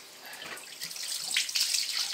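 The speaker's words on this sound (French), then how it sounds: "Celle-ci, je vais juste les rincer, bien les dessaler" Tap water runs steadily and close, rinsing smoked trout fillets to draw out the salt, with the flow growing louder as it splashes over the fish; no voices.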